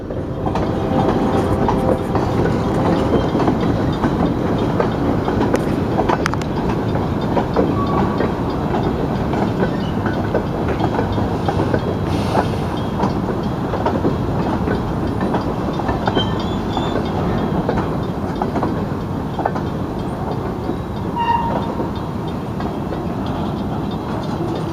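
A freight train made up entirely of covered hopper cars rolls steadily past nearby, a continuous loud rumble with rhythmic clickety-clack of wheels over rail joints throughout, and no voices.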